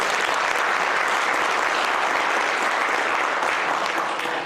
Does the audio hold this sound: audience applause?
yes